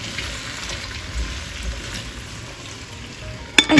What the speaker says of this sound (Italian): Prendiamo una padella antiaderente e versiamo dell'olio d'oliva. Facciamo cuocere le patate insieme alle cipolle.